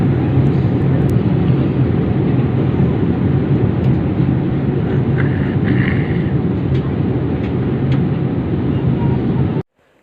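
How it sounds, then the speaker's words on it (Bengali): A steady, loud roar of airplane cabin noise fills the air during descent toward Bangkok's Suvarnabhumi Airport. It drones evenly throughout, then cuts off abruptly at the end. "কিছুক্ষণের মধ্যে বিমানটি ল্যান্ড করবে"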